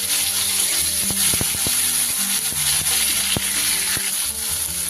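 A large chopped tomato dropped into hot oil after tempering spices, giving a loud, constant sizzle with scattered clicks and scrapes from stirring.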